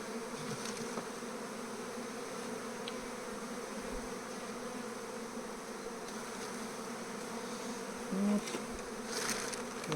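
A captured honeybee swarm, checked on its second day in a hive with new foundation frames, gives off a steady, continuous buzz of many bees, with a few louder passes near the end.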